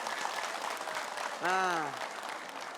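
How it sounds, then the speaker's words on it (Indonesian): A studio audience at a Siraman Qolbu religious TV show claps in a steady patter of applause while a voice briefly speaks over it. "Terima kasih, tepuk tangan."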